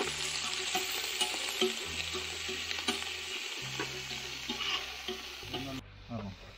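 Onions and green chillies sauté in a pan, a steady sizzle with soft stirring scrapes under quiet background music throughout.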